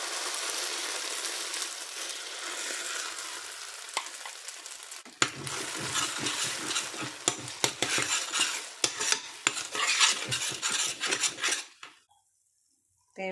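Ground gravy paste stirred into hot oil in a kadai, giving a steady sizzle with scraping, clattering stirs from a metal spoon. It grows busier midway, then cuts off near the end, and no one speaks.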